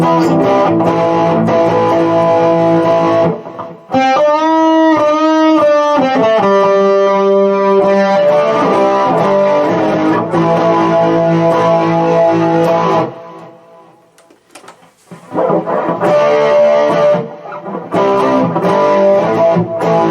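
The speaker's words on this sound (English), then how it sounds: "I'd say it's a distortion of some sort." Electric guitar played through distortion on a Boss GT-100 effects processor, loud and sustained with gritty chords, pausing briefly twice before resuming.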